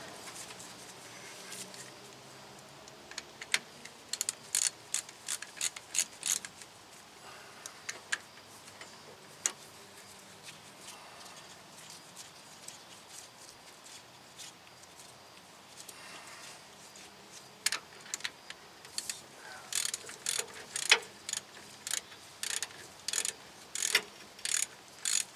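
A ratchet tightening brake caliper bracket bolts on a 2004 GMC Sierra 2500 during a rear brake job, quick clicking runs in bursts over a quiet workshop background, faint and close.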